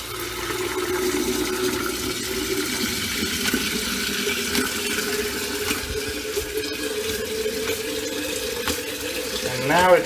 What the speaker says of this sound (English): we're just going to keep doing that until the water runs clear